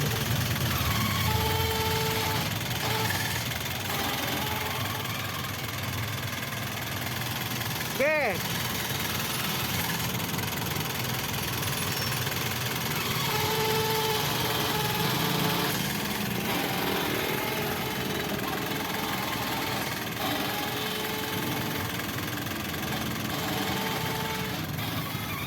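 A Nissan Frontier pickup's engine hums steadily with a continuous mechanical whine from the power steering after a fluid change, with a brief word spoken once.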